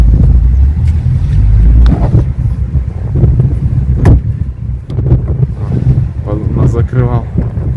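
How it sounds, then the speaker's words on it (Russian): Strong gusty wind buffets the microphone with low rumbling bursts near Kultuk by Lake Baikal, and someone speaks briefly near the end. "Ветер дует."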